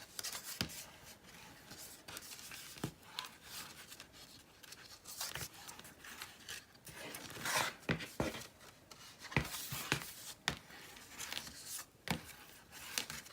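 A bone folder or fingertip burnishes the paper cover of a handmade traveler's book, making soft, irregular rubbing and scraping strokes up close, with occasional sharper crinkles of paper.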